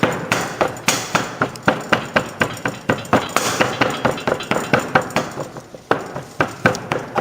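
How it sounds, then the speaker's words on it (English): A flat rammer pounds molding sand of clay and silica packed in a box, sharp regular thuds repeating roughly every third of a second, close and loud throughout. "it's time to use flat rammer for the rammering of the molding sand"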